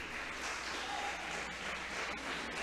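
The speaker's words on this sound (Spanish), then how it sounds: "¿Cuántos le aplauden al Señor, hermanos?" A church congregation claps together in a dense, continuous patter of applause, fairly faint and distant, with no voices over it.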